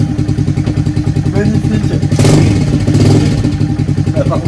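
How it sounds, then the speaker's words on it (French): A motorcycle engine idles with a fast, pulsing throb, then swells briefly in a rev before settling back to its steady beat, close and loud, with someone speaking over it. "on va enfin pouvoir attaquer cette moto. Et ça fait aussi longtemps qu'on l'a pas démarré."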